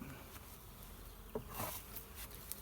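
Honey bees swarm inside a trap box, giving a faint, steady insect buzz with a few brief louder flurries, heard up close in a quiet outdoor setting with no talking.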